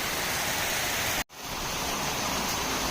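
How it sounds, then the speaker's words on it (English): Dense, steady roar of heavy rain pouring down, broken by a brief near-silent gap before the downpour resumes just as loud. "That's a lot of rain"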